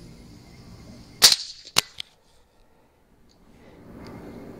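A rifle gunshot cracks sharply during a hog-hunting field test, followed by a second loud report about half a second later, then near silence with faint ambient noise.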